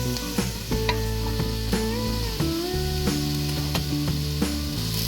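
Green chillies and onions with a little salt sauté in a pan for a Kerala-style chicken stew, giving a soft, continuous sizzle beneath louder background music with steady beats.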